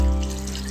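Water pouring into a cooking pot for pork vindaloo, a short steady rush of liquid heard alone.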